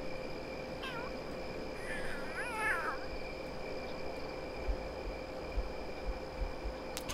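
A cat meowing inside The Sims 3 life-simulation game, a couple of short plaintive meows near the start and a longer wavering call around the middle, faint over a quiet hum of game ambience.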